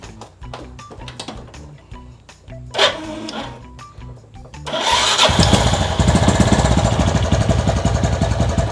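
Clicks and a brief whir, then a small motorcycle engine starts and settles into a loud, steady, rapid chugging idle close by.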